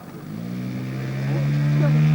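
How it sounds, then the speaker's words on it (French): A 120 cc two-cylinder model aircraft engine drones and rises in pitch as it speeds up, growing steadily louder over a couple of seconds, heard fairly close at an outdoor model airshow. "un moteur bicylindre de 120 cm3"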